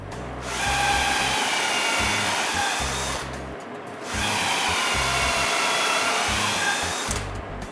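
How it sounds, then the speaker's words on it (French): A drill bores small pilot holes with a Vexbit bit at the centre of door hinge locations. Two sustained whirring bursts of about three seconds each are separated by a short pause, moderately loud and close. "je dois percer un petit trou pilote au centre des trous des pentures avec une mèche Vexbit"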